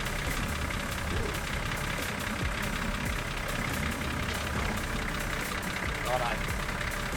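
A vehicle engine idles steadily through a winch recovery on an off-road scenic drive, a constant mid-range rumble under broadband outdoor noise, with people talking nearby.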